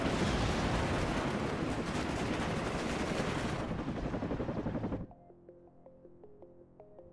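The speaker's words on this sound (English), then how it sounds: "Cobra here with rockets." Cobra attack helicopter ripple-firing a long barrage of rockets in the strategy game WARNO, loud dense roaring bursts for about five seconds, then cutting off to faint background game music and tones.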